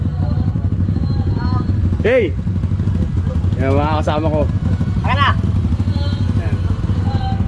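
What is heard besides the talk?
motorcycles riding on a trip to Mount Kulago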